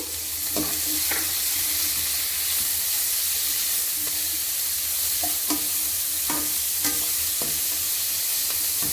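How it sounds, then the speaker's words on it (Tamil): Tomatoes and green chilies sautéing in a pan for a country rooster curry, a constant loud sizzle broken by repeated spoon scrapes and taps against the pan. "இப்போ தக்காளி சேர்த்துக்கிடுவோம் அது கூடயே பச்சை மிளகாவையும் சேர்த்துக்கிடுவோம் இதுவும் நல்லா வதங்கட்டும்"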